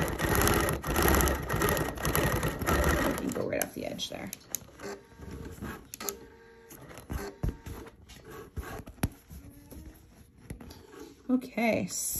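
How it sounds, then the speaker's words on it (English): Sewing machine quilting back-and-forth lines with metallic thread on a collage quilt, a steady mechanical whir that runs loud at first, then breaks into shorter bursts of stitching with pauses, under a person talking. "when I'm stitching these back and forth lines, I'm trying to kind of stitch back on top of the line I already stitched"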